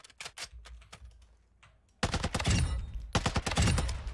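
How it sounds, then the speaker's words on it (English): Rapid bursts of suppressed M16 assault rifle fire in a video game, loud close clusters of shots separated by a quiet gap, with a couple of sharper isolated cracks early on. "I have M16 LOL silenced"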